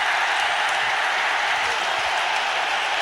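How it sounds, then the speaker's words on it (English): A dense, steady roar of a large cricket crowd cheering and clapping at the Hero Cup final, India versus West Indies, continuous and loud throughout with no distinct voices standing out. "just listen to the crowd"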